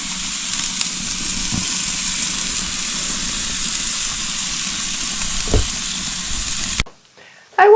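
Spiced chicken skewers sizzle in a pan over lowered heat, a loud, steady, close hiss with a couple of light knocks, cutting off abruptly to near silence at the end.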